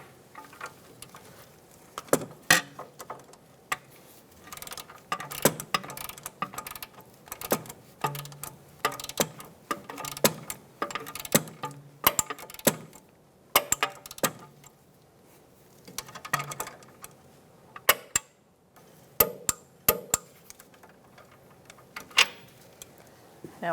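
Sharp metallic clicks and ratcheting from a torque wrench tightening a tie rod nut to 22 foot-pounds on a 2014-2019 Kia Soul during a front wheel bearing job, irregular bursts of close clicks amid quiet pauses.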